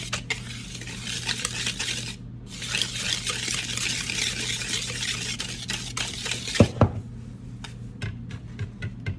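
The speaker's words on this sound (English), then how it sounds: "And now we whisk all of this together. So whisk it very well." A whisk beats cinnamon bun dough ingredients in a bowl, quick steady scraping strokes for several seconds, then a pause and a few scattered clinks of the whisk against the bowl.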